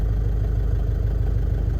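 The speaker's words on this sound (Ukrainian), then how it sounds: "вже машина чуєте? Чуєте, як тарахтіт?" Car engine idling with a steady, close, loud low rattle and clatter that persists without talk, as the clutch is raised too high just before the engine stalls.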